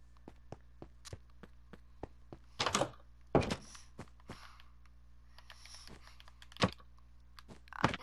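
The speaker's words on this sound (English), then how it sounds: "the creeper just got shot" A Minecraft creeper gets shot in the game, heard as a run of sharp, light clicks broken by several heavier hollow thuds and short bursts, all close and fairly quiet, with no talking.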